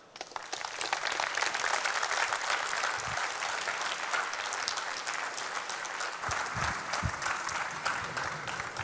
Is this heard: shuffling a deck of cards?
no